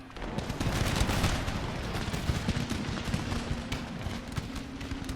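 Massed musket volleys from grenadier infantry in an Empire Total War battle, a dense continuous crackle of overlapping shots rolling on for about five seconds, loud and steady with no talk.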